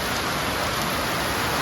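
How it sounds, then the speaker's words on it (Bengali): Heavy rain falls in a dense, steady roar of close, broadband hiss that stays constant throughout, with no voices. "বৃষ্টি নেমেছে দেখো।"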